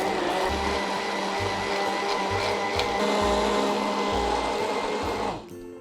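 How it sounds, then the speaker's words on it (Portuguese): A blender whirs steadily at high speed, its motor grinding through a thick asparagus cream before cutting off abruptly at the end. "E agora é triturar."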